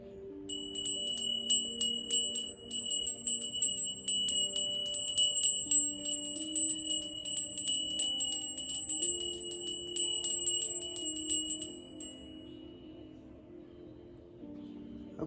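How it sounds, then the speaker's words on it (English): A bell struck repeatedly in a quiet room during a breathing and stretching session, its bright ringing tones repeating steadily for about twelve seconds over a soft low drone, then fading out. "Let's clear out the energy with the bell."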